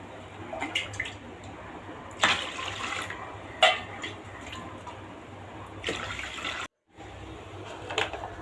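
Four cups of water pour into a pressure cooker holding washed rice and lentils for ven pongal, a steady, fairly soft splashing and gurgling with a few brief surges and a short pause near the end.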